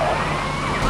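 A continuous fire truck siren from Grand Theft Auto Vice City, a rising and falling electronic wail over a steady vehicle rumble, loud and unbroken for the whole second.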